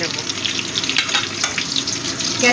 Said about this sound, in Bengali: ফুলকপিগুলোকে একটু ভেজে নেব।